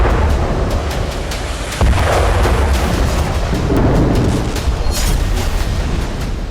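Explosions and blasts ring out as Hamas fighters attack Israeli ground forces in northern Gaza, a loud continuous rumble punctuated by repeated sharp bursts and booms, with no talking.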